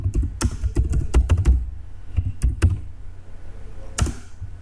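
Typing on a computer keyboard while making a PowerPoint slide, heard as bursts of close, sharp keystrokes with short pauses between words and one last isolated key tap, with no talking.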